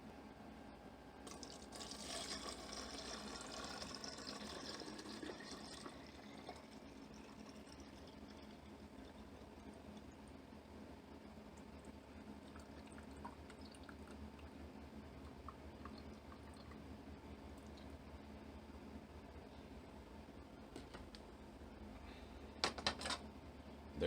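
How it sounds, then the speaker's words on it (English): Homemade ginger concentrate is poured into a storage container: a steady liquid stream whose pitch climbs as the vessel fills, then softer trickling and dripping, with a few faint clinks near the end. "The last and final step is just to pour it into the container that you're going to store it in"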